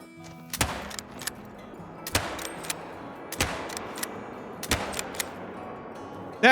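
Scattered single gunshots from the hunting video game Call of the Wild, about five sharp cracks spaced a second or so apart over a quiet outdoor ambience, fairly close and loud.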